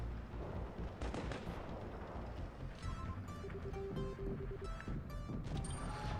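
Tank cannon fire in WOT Blitz, a tier 4 German Pz4 D medium tank battle, with heavy booming blasts and rumbling impacts over a dense, continuous roar of battle noise, loud throughout and with no speech.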